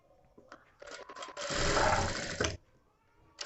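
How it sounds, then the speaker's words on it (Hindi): A sewing machine runs a pressed stitch along a fabric seam of a katori blouse, with a few short taps and then a single steady whirring run of about a second, loud and close, before stopping. "इसे इस तरीके से फोल्ड करके अब लगाएंगे हम एक दाब की सिलाई"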